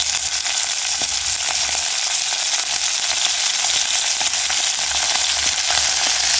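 Kenyan matumbo tripe fries in cooking oil with a loud, steady, broadband sizzle that holds evenly throughout, crackling up close with no voices.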